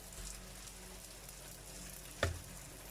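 Moroccan msemen crêpes stuffed with onions cook in a hot pan, giving a steady, soft sizzle throughout with one brief clatter near the end.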